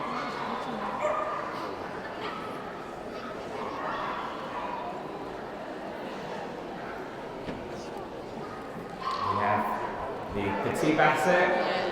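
At the City of Birmingham dog show hound group, a Basset Hound gives a few yipping barks and whimpers, faint among busy crowd chatter and a voice talking, growing louder toward the end.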